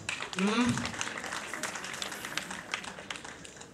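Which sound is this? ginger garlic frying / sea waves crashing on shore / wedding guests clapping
wedding guests clapping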